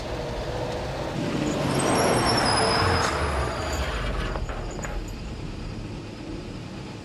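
A car speeds along a road with a steady engine and tire roar that swells to a peak and then slowly fades, loud and close.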